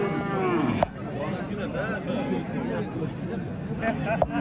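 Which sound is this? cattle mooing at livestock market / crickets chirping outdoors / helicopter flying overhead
cattle mooing at livestock market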